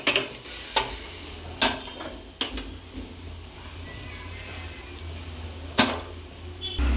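Masala for vegetable biryani stirred in a pan, heard as a low background sizzle broken by a handful of sharp, close scrapes and clinks of a spoon against metal at irregular intervals.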